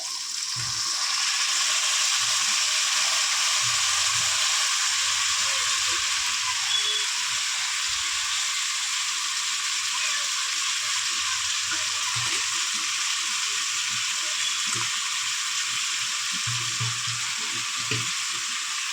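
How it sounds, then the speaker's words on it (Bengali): Malabar spinach, eggplant, beans and other vegetables sizzle steadily in a hot oiled pan with turmeric, loud continuous frying hiss with occasional low scraping from stirring. "হালকা করে ভেজে নিয়েছি, দিয়ে দিলাম পুঁই শাক।"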